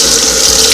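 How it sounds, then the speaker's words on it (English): Hot water runs from a kitchen tap into a sink while vegetables are washed. It is a steady, close, loud rushing stream, heard alone. "And I use hot water."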